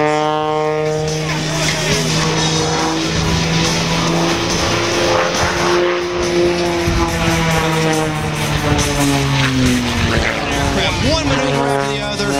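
An aerobatic aircraft's engine drones and swells continuously through shoulder rolls, tumbles and gyroscopic maneuvers at an air show at Point Mugu, its pitch gliding up and down, loud and steady under a commentator's voice.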